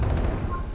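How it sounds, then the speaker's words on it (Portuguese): Rapid bursts of gunfire crackle through a dense, noisy mix in Call of Duty: Black Ops Cold War team deathmatch, with no clear talk over it. "Tava dando tiro em mim."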